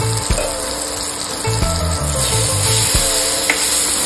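Raw mango pieces cook under a lid in a pan, giving a steady close sizzle and frying hiss with a few faint clinks and taps, and no voices.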